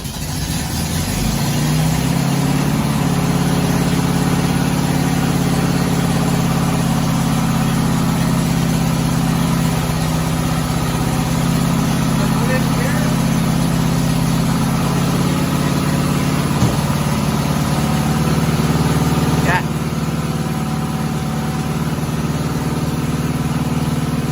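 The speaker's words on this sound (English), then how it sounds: "we've got a lot of problems with revving" Engine of a 1972 VW Westfalia running steadily at an idle that is too high, with a continuous droning hum and slight surging, close and loud throughout with no talking.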